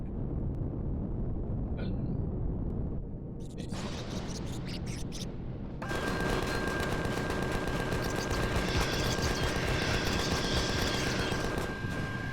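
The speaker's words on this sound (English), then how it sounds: "we're going to change to the Gatling guns." Gatling guns in Empyrion Galactic Survival open up in a loud, sustained rapid-fire stream after a few scattered bursts, a dense mechanical rattle that keeps going to the end.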